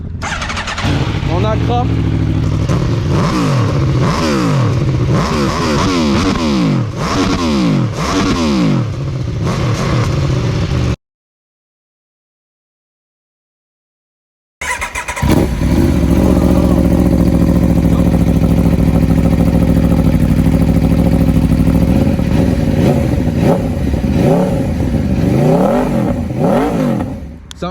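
Aprilia Tuono V4 Factory motorcycle with its stock exhaust starting up close and loud, idling and revving hard with rising and falling engine sweeps, a brief silent gap, then a sustained steady rumble while a voice speaks briefly.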